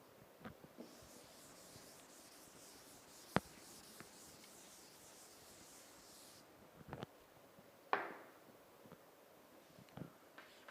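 A table being written out by hand during an engineering lecture on the centroid of a composite section, faint, steady scratching strokes with a few soft taps and brief pauses, quiet and close with no speech.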